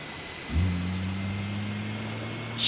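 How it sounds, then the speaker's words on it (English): Simulated CFM LEAP-powered Airbus A320neo jet engines in JetBlue livery, X-Plane 12 flight simulator with the KOSP sound pack: a steady low engine drone with tonal hum that begins abruptly and then holds, a faint higher whine above it. "Check out those engine sounds."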